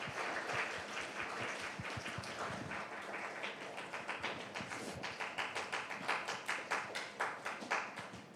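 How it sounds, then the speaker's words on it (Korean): Quiet applause from a church youth congregation at a Sunday service, settling into a steady rhythmic clap that grows more even toward the end. "같이 박수, 큰 박수 쳐주세요"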